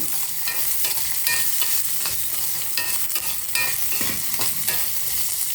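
Garlic and ginger sautéing in a pan over a low flame, a steady close sizzle broken by repeated scraping and clinking strokes of a spoon stirring, loud and without voices.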